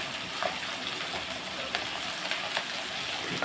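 Onions frying in a pan for a home-cooked curry, giving a steady, fairly soft sizzle with faint stirring scrapes throughout, with no other sound on top.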